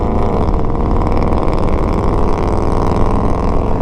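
A car engine drones loud and close as the vehicle passes, a steady throaty rumble that holds without pause for a few seconds.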